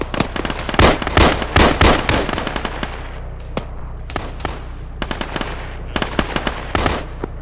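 Rapid crackling bursts of gunfire and sharp blasts in an Arma 3 military firefight, loud and dense at first, then thinning to scattered pops and bangs with a steady low hum underneath.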